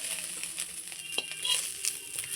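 Darka fish frying in a wok sizzles steadily while a utensil scrapes and taps against the pan in scattered metallic clicks, all close up.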